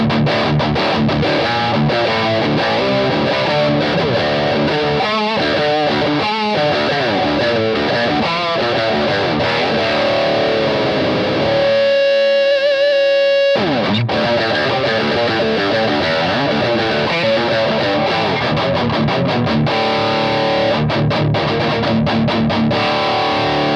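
Heavy, distorted electric guitar in drop D tuning chugging through a high-gain amp, with palm-muted riffs and sustained chords, a brief pause midway, then loud playing resumes.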